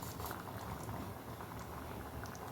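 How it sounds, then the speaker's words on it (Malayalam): Tomato gravy coming to a boil in a cooking pot, a soft continuous bubbling and popping at low, even volume with no talk. "ജസ്റ്റ് ഒരു തിള വന്നു."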